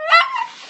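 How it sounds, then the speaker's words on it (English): A pet dog just outside the door gives a loud, close, tonal yelping bark that slides into a whimper, followed by a second sharp yip, all within under a second. "That's my doggy out the door barking."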